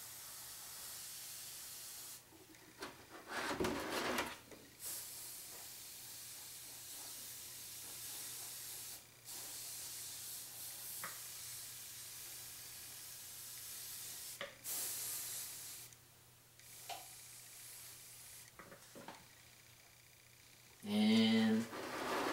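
Spray painting a Doctor Doom statue, a steady airy hiss that carries on for long stretches, broken by brief louder bursts and pauses, with someone talking quietly in places.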